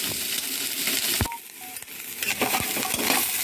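Dried red chillies frying in a pan for coconut chutney give a steady close sizzle, broken by a few scraping stirs and light clinks against the pan.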